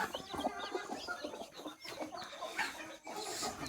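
A free-range village hen with newly hatched chicks, more still hatching beneath her, gives quiet clucking among scattered high chick peeps, soft and close with brief pauses.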